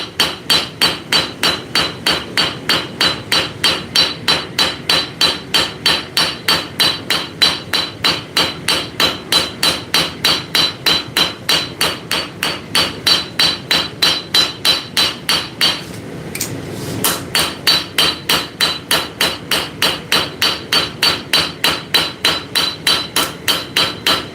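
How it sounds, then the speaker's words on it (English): Straight peen hammer forging hot steel bevels, a steady fast run of sharp ringing blows on the anvil, loud and close, with one brief pause midway before the rhythmic striking resumes. "as I'm forging this, I'm forging it with a straight peen"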